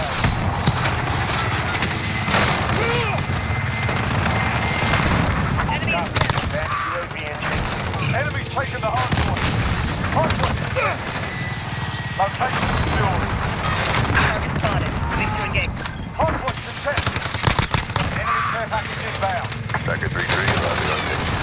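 Rapid bursts of PP19 Bizon submachine gun fire in Modern Warfare, loud and repeated in quick rattling volleys with sharp cracks and occasional booms, continuing through the stretch while a player talks over it.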